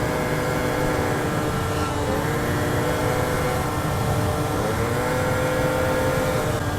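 A scooter engine drones steadily and loudly while the scooter is ridden, a continuous buzzing hum with slight pitch shifts and no pauses.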